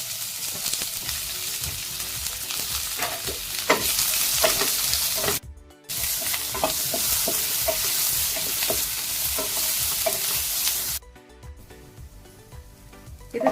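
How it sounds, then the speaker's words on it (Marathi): Sliced onion frying in a tablespoon of hot oil in a pan for drumstick curry, a loud close sizzle with repeated stirring scrapes that cuts out briefly twice. "उभा चिरलेला एक मोठा कांदा चांगला तांबूस रंगावरती परतून घ्यायला"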